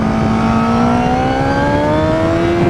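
A 2024 Honda Fireblade SP motorcycle engine revving, a loud, close, sustained high-pitched engine whine that climbs steadily in pitch as the revs rise, with no voices over it.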